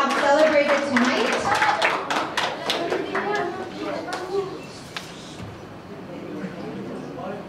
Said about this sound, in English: let's give everyone another round of applause again for that successful review that we have celebrated tonight